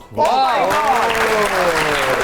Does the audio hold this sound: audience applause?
yes